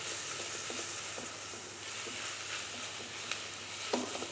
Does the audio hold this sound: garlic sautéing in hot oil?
yes